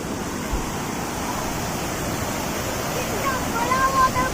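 Steady, dense rushing roar of the Amboli Ghat waterfall, heard close and continuous, with a slight swell near the end.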